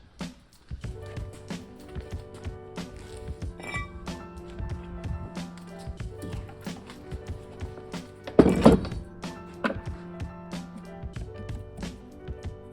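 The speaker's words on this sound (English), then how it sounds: "So now I can put the rotor on this." Metal parts of a Mini brake setup clunk and clink as a brake rotor is fitted onto a hub, giving a close run of irregular thunks and taps with one louder metallic knock partway through.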